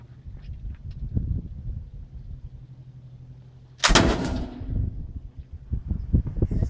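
A 1766 Charleville flintlock musket fires a single loud, close bang partway through, preceded by rustling handling sounds and followed by a short rumbling decay and more movement.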